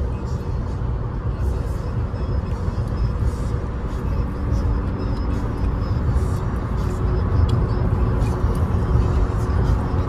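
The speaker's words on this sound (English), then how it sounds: "Damn, this big ass truck." A big truck rolling alongside on the road, heard as a steady low engine and road rumble from inside a moving car, continuous and fairly loud for the whole stretch.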